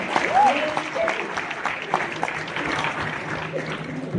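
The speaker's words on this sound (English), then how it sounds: "A huge round of applause once again." Crowd applause at an awards event, a dense, steady wash of clapping that carries on for the whole stretch, with faint tonal sounds like voices mixed in.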